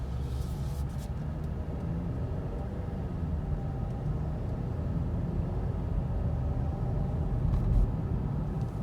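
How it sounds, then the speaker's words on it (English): A 2021 Ford Edge SEL accelerating normally from inside the cabin, a steady low engine and road rumble holding fairly even with slight swells as the transmission shifts, no talking. "we're just gonna accelerate normally to see how the transmission shifts under normal circumstances"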